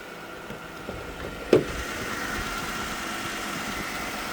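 A 2014 Jeep Wrangler Unlimited Sahara with a rebuilt V6 engine idles with a steady low rumble, broken once by a brief sharp clunk.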